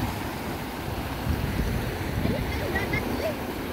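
Sea waves washing in at Kite Beach, a steady broadband rush of surf mixed with wind noise on the microphone, continuous and fairly close, with no speech over it.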